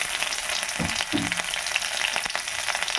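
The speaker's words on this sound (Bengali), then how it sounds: "এবার আমি একটু রসুনগুলো এর মধ্যে দিয়ে দিলাম।" Garlic frying in hot oil with cumin, mustard seeds and a dried chili, a steady close sizzle with a few louder bursts of crackle as the cloves hit the pan, no voices.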